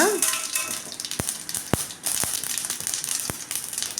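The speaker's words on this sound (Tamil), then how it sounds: "ஒரு வானல் வச்சு கொஞ்சம் ஆயில் ஊற்றிக்கலாம் கடுகு உளுத்தம்பருப்பு போட்டுக்கலாம்" Mustard seeds and urad dal spluttering in hot oil in a pan: a steady hiss with several sharp, distinct pops spaced irregularly, close and fairly loud.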